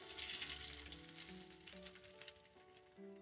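Beaten egg for a ham and cheese sandwich fries in butter in a pan, a soft, steady sizzle heard faintly under background music.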